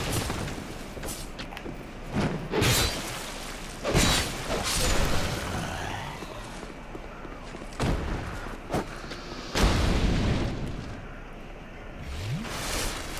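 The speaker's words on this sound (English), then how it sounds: "I'm gonna try to keep him throwing fire bombs at it" Fire bomb explosions in the video game Dark Souls 2 burst out as several loud, separate booms scattered through the clip, with whooshing and mechanical game effects between them.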